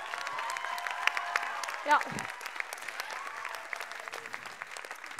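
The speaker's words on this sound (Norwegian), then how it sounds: "vi må gi en applaus." Audience applause at a live revue show, steady dense clapping throughout at moderate distance, with a brief spoken word and a short low thump partway through.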